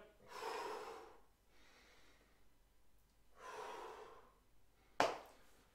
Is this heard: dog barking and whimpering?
no